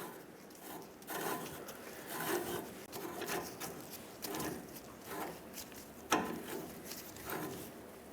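An outer tie rod is turned off its threaded adjusting sleeve on a 1999–2025 Ford E-350 Super Duty, giving repeated rhythmic scraping and rasping strokes, each lasting about a second, close up with no talk.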